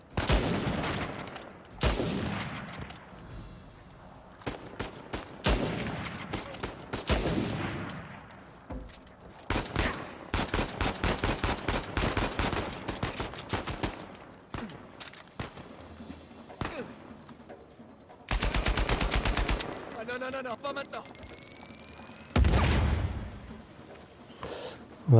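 Gunfire from an Uncharted 4 match on PS5, with sniper rifle shots among dense bursts of fire, blasts and clattering action. The shooting comes in loud volleys over roughly 25 seconds, with brief lulls and a sustained roar near the end.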